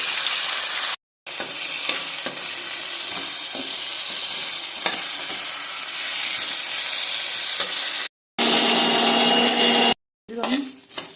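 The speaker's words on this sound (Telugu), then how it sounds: "దీంట్లో కొద్దిగా ఆయిల్ వేసుకున్నాను దీంతో నల్లేసారి ముక్కలు కూడా వేసుకుని వేయించుకోవాలండి" Pieces of veldt grape (nalleru) fry in a little oil in a pan, giving a steady close sizzle with stirring scrapes, broken by brief silent cuts.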